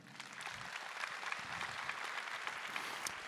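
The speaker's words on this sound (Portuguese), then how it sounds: "E eu queria que você se aplaudisse nesse momento." A Catholic Mass congregation applauds during the homily, giving a steady, moderately distant wash of clapping that continues throughout.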